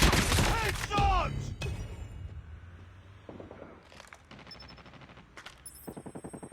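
Automatic gunfire in a ranked Domination match of a shooter video game, fast bursts of shots rattling in quick rhythm, with a game voice calling out near the start and a short burst of rapid fire at the end.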